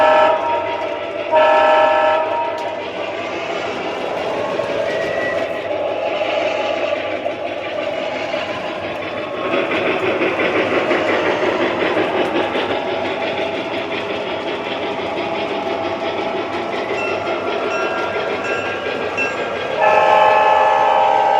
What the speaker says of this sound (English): PS3 engine to warm up. There it goes.